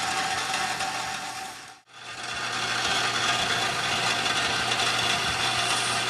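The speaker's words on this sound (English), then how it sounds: "So with a power strop, it really doesn't take very long." A motor-driven power strop hones a knife edge, giving a loud, steady mechanical whir with a brief dip in the middle before it resumes at full volume.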